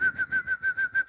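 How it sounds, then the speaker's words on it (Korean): A high, pure whistle pulses in seven short, evenly spaced bursts at one steady pitch, close and clear with little else around it. "휘파람 소리 내봐요."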